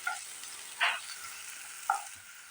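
Chopped onion sizzles quietly in a pan, broken by two distinct scraping strokes of a spoon stirring it against the metal.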